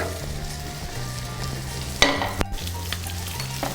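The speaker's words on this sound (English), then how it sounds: "Then I'm going to add my egg in and make my scrambled egg." An egg for scrambled egg sizzles and crackles in a hot pan, a steady close frying hiss with a few sharper pops and a brief clink of utensils.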